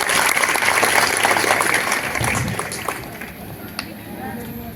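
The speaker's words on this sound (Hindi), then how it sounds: "हाँ, ताली बजा दो भाई।" Audience clapping at a parent-teacher meeting in a school, steady applause filling the room, with voices talking over it before it fades.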